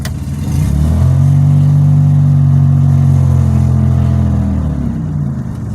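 A Pontiac Grand Prix engine drones steadily while driving, a loud, sustained low hum that swells in the first second, holds evenly, then eases slightly near the end, with no talk over it.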